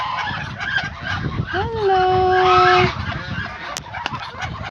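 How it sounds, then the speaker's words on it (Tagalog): A few loud nasal honks from ducks, rising then holding, close by, with a short spoken greeting and faint outdoor background. "May pato din po tayo. Ito po, mga pato."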